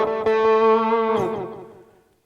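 A guitar note played through the delay effect on a LEKATO PA-1 headphone amplifier rings out alone, followed by a second struck note whose repeats trail off and fade over about two seconds.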